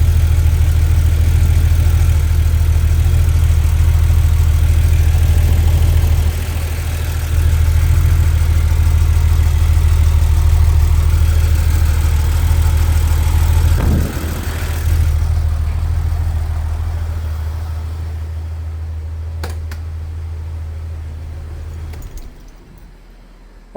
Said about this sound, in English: now this I had to run the car for about an hour at idle